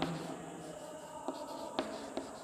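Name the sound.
writing a math problem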